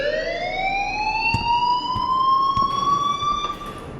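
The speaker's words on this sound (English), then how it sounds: "please turn off that alarm since that's your job" A loud, continuous electronic alarm rings steadily from start to finish in the Life is Strange video game, its rising tone dominating throughout, with faint thuds beneath.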